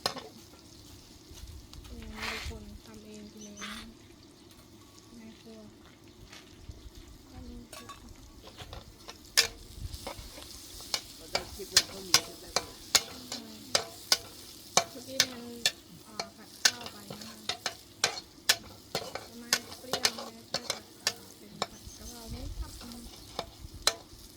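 Pork stir-fries with garlic in a wok at a made-to-order food stall, a low sizzle under a run of sharp metal spatula clacks that speed into a rapid, irregular rhythm, with faint voices in the background.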